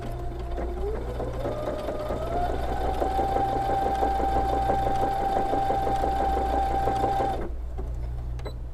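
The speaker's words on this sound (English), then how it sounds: "and then we'll stitch again." A sewing machine stitches a belt loop in a repair, running steadily and close with a fast rhythmic needle clatter and rising motor whine for about seven seconds before stopping abruptly.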